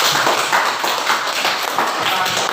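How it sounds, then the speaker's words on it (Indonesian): Classroom applause from students for a group, dense steady clapping at close range lasting throughout, with faint voices mixed in. "mari kita tepuk tangan untuk kelompok 1"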